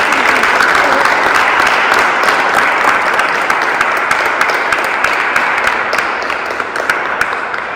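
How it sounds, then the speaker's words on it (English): Warm audience applause after a science-and-faith lecture, a loud, dense wash of clapping that holds steady and slowly fades toward the end. "Let's give Ruth a warm round of applause"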